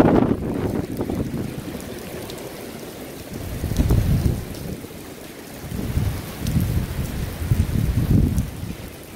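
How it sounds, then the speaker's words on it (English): Gusty wind from a windstorm in Portland, Oregon roars and buffets the microphone in surging waves, loud and close, with no talking. "You see the wind, how windy it really is."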